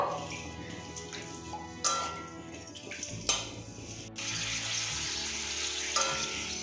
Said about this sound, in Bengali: এবার এই তেলের মধ্যে একটা করে পাঁপড় দিয়ে দেব।